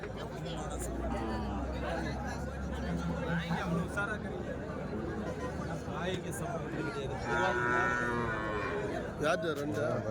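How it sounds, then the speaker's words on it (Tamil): Cattle low and moo at a busy cattle market in Marappalli, with a long deep moo near the start over a steady hubbub of people talking and moving about. "பசு மாடுங்க"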